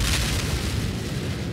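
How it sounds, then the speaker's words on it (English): A single deep boom from an explosion in the Minecraft video game fills the moment, a dense, rumbling burst that fades slowly with no voices. "I think I heard an explosion in the living room."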